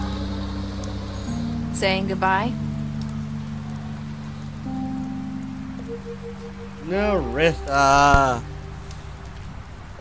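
Soft, steady rainfall in The Wolf Among Us video game forms a hiss under a low ambient hum, with characters speaking briefly over it.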